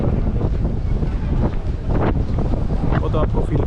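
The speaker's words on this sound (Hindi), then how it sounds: "ठंडी हवा चल रही है।" Cool wind gusts over the open courtyard of Masjid Nabawi in Madina, buffeting the microphone in a loud, continuous rumble that rises and falls, with a voice speaking beneath it.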